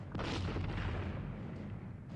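Artillery guns fire in the 1970 film Waterloo, a deep booming blast that rolls out and decays into low rumble over about two seconds, fairly quiet and distant.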